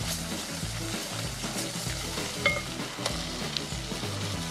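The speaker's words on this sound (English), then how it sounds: "Here go the onions. And that's going to cook up and mix with the roux." Chopped onions sizzle and fry in a roux for crawfish etouffee, with steady close frying hiss and irregular scraping stirs from a spoon against the pot, no voices.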